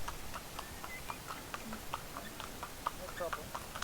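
Faint, evenly spaced clip-clop of a horse's hooves walking at a calm pace on a hard village road, with low background rumble.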